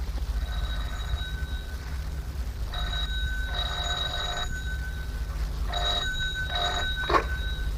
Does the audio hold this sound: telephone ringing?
yes